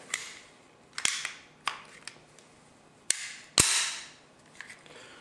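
A handgun is put back together after cleaning and greasing, with sharp metallic clacks and snaps of parts seating and the slide moving. Several loud, isolated hits come close up, spaced irregularly, with no talking.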